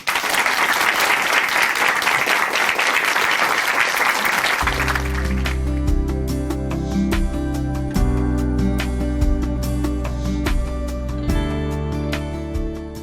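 A studio audience at a Christian broadcast gives a speaker from a Chuncheon church a loud, even round of applause lasting several seconds, then music with a steady beat comes in and carries on.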